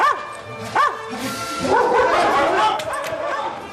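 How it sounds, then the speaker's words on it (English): A dog barks a couple of times up close, then yips and whines excitedly while voices talk over it. "I heard Timmy bark"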